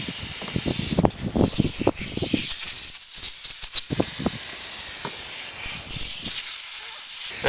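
Compressed air blows out through the tip of an HVLP spray gun in bursts of sharp hissing, some short and some sustained, close to the listener with faint talk in the background.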